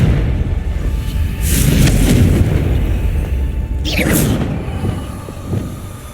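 Confringo blasting spell erupts in Hogwarts Legacy, a loud sustained boom with rumbling, crackling debris, then whooshing magical bursts and fading echoes inside a stone maze.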